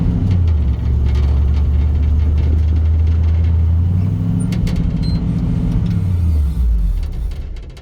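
A 1964 Chevrolet Suburban engine runs steadily through a test drive, a loud, deep rumble whose revs swell, hold and then ease back down, with no talking.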